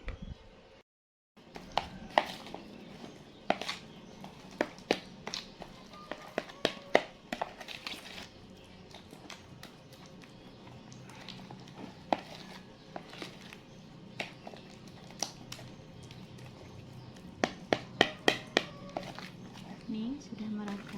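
Butter dough tinted with yellow food colouring being mixed by hand for nastar cookies, with soft scattered taps and knocks of utensil against bowl throughout, fairly quiet and close.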